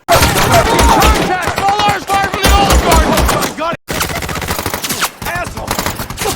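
Loud, rapid bursts of rifle fire in a war movie set in Afghanistan's valleys crackle over dramatic music and shouting, broken by a brief silence before the chaotic barrage resumes.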